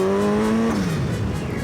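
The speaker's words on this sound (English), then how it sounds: "blow-off sound." A tuned car lets out a loud, close turbo blow-off whoosh over a falling engine tone, all within under two seconds.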